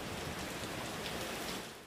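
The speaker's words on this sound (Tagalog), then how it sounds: "Nagsimula sa mahinang hangin at bahagyang ulan." Light rain from an approaching super typhoon hisses and patters on surfaces in Santa Ana, Cagayan, a dense, even wash of droplets with no other sounds standing out, fading slightly at the end.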